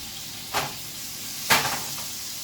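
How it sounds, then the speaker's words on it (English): A corn and egg omelet frying in a pan gives a steady sizzle, broken twice by brief louder hisses of spitting fat, close up with no talking. "Making a little corn egg omelet"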